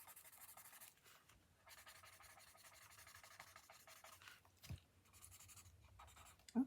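A paper blending stump rubs over graphite pencil shading on drawing paper in a steady, quiet scratchy stroking that runs nearly continuously, with brief pauses and a small tap near the end, close and alone.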